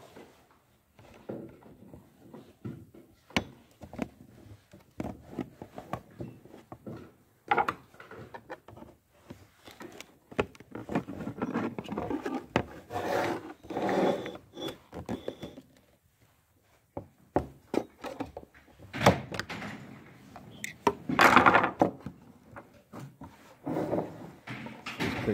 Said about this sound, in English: broken power connector. Remove the faceplate.